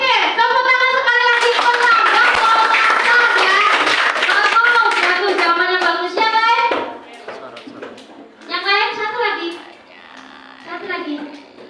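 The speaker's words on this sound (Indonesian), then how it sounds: "Oke, tepuk tangan sekali lagi." Schoolchildren in a classroom clap their hands in a loud burst that fills the first half, then break off into scattered children's chatter and calls with a few lighter claps.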